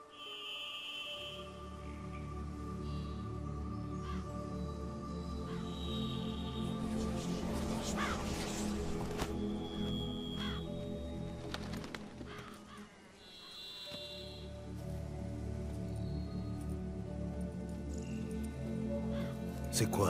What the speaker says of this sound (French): Un corbeau. Très commun sous cette latitude et très intelligent.